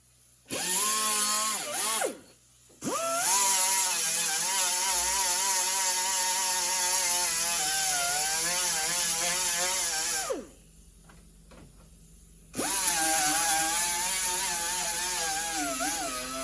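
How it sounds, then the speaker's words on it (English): A power grinder works down metal on a car's A-pillar and front frame, a loud steady whine broken by two short pauses, one around two seconds in and a longer gap near the end before spinning up again. "I ground this down so I can see the welds"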